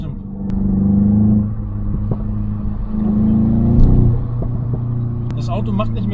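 Artificial engine sound from a VW Golf 8 while driving, a low droning hum that swells and eases twice, with people talking over it throughout.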